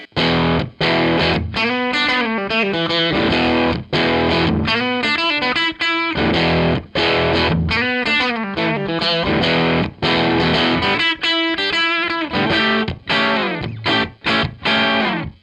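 Heavily distorted electric guitar playing chords and riffs with a thick, saturated tone and short pauses between phrases.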